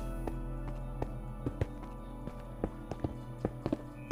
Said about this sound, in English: Let's not kill this horse now.